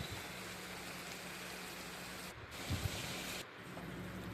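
Water is splashed into a cooking pan of dried shrimp curry with potatoes and green chilies, giving a soft, steady hiss and sizzle that stays faint and even throughout.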